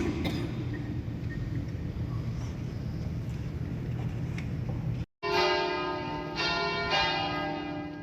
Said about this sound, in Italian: Suonano le campane alla fine della messa.